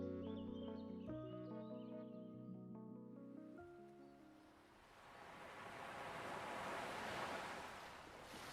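Surf rolling onto a beach, a broad steady wash that swells toward the end, entering after a few seconds of soft tonal music that fades out.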